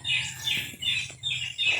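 Repeated bird calls during a duck hunt, five short bright squawking bursts in a steady rhythm over a low background hum, fairly near and moderately loud.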